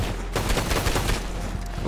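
Rapid gunfire in Red Dead Redemption 2 Online, a quick string of several shots from the player's gun, fairly loud and close, set over continuous game noise.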